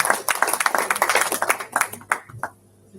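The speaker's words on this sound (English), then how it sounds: "may I ask for another round of applause for our facilitators and all the speakers" Audience applause at a Regional Partnership for Democracy stakeholders roundtable, a dense patter of many hands clapping at close range that thins and fades out toward the end, with some voices underneath.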